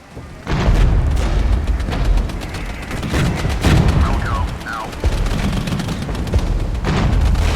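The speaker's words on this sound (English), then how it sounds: "We'll have a second artillery barrage on these guys." Heavy artillery barrage in the tactical war game Regiments, with deep booming impacts and scattered gunfire rolling on continuously and loudly, with occasional faint speech beneath.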